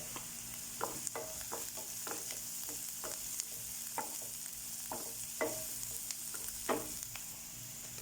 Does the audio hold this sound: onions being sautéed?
yes